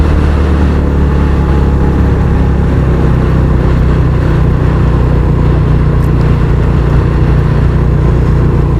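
A motorcycle on a tight off-road mountain track between Khuzdar and Pir Ibrahim, its engine holding a steady mid-pitched drone close by for the whole stretch, with no voices.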